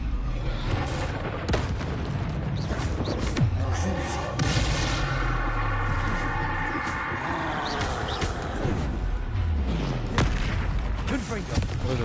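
Repeated Confringo fire-spell blasts from the Hogwarts Legacy video game, booming explosions and bangs layered densely over combat effects and music for the whole stretch, loud and close.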